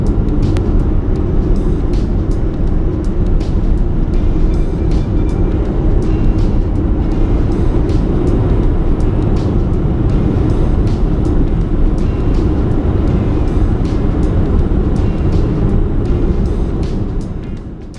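Light car on a test drive, a loud steady road and engine roar from inside throughout, with no voices.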